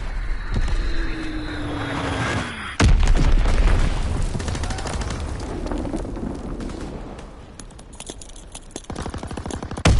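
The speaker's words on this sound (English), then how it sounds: "Dropping Azon bomb" A WWII-era Azon guided bomb falls and detonates in a Call of Duty WWII multiplayer battle, a sharp loud blast followed by rumbling debris and scattered rapid gunfire crackling nearby.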